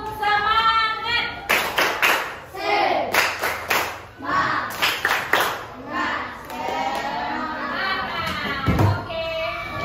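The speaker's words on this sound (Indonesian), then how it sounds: "Oke, tepuk semangat dulu, Nak. Tepuk semangat." Schoolchildren in a classroom do a rhythmic spirit clap, tepuk semangat, with sharp clusters of claps in a patterned beat alongside their chanting voices, then singing-like voices continue.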